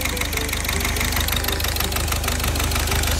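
A Peugeot 308 engine running with a bad number 4 fuel injector, a steady rhythmic knocking idle with fast repeating ticks over a constant low drone, close and alone.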